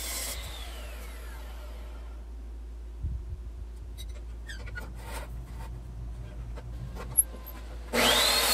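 A worn saw blade grinds through stock for the racks of a Santa Maria grill being built for a trailer smoker. The cutting is a low, steady rasp pressed hard into the workpiece, with a louder burst near the end.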